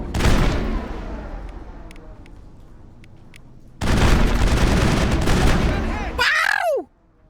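Heavy gunfire from shooting in the video game Mass Effect comes in two loud, sustained barrages of rapid shots and booms, ending with a swooping whine, while a person talks over the action.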